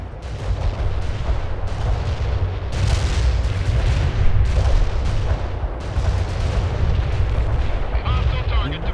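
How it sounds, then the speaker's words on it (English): Artillery and mortar fire rumbles in the video game World in Conflict, a dense, continuous barrage of booms and explosions with low roaring blasts throughout and a faint voice mixed in. "You have incoming fire, Lieutenant Parker. You should take out those enemy mortars ASAP"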